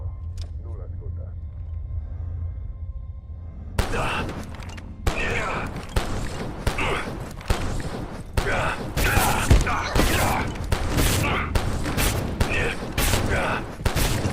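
Gunfire in the video game Abiotic Factor comes as a series of sharp, loud shots spaced through the clip, with rumbling game noise underneath and people talking over it.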